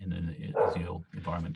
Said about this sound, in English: Sorry for the dog barking in the background.